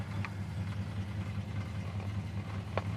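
A 1974 Dodge Dart Sport's engine idles with a steady, low, even rumble that stays close and constant throughout, broken only by a couple of faint clicks.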